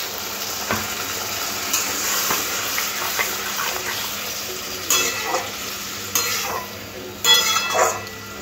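Beans frying in a mustard-poppy paste take a pour of spiced water, giving a steady close sizzle with stirring scrapes and a few louder bursts as the liquid hits the pan; no voices.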